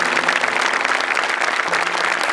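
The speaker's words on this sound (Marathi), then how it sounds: "जोरदार टाळ्या." A stage audience at a comedy show tribute breaks into loud, sustained applause, many hands clapping densely and evenly without a pause.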